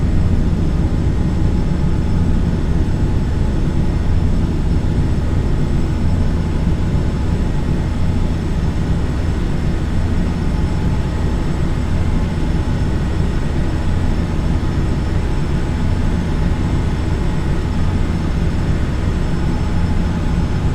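Jet engines at climb thrust in the Microsoft Flight Simulator X flight game, a steady loud unbroken roar that holds at an even level throughout, with no voices.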